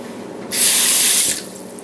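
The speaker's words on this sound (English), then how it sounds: "you can see the water does actually run right off of it" Water poured onto a wooden ruler with a superhydrophobic Never Wet coating, a loud, close hissing splash lasting under a second that cuts off abruptly.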